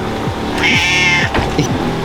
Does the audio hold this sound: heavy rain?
no